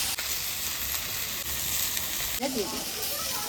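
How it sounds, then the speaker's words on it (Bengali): Green chillies hit hot oil in a blackened wok, giving a steady, close, hissing sizzle throughout; a voice speaks briefly near the end. "এবার দেবো কাঁচা লঙ্কা, কাঁচা লঙ্কা আমি ছেড়ে দেবো"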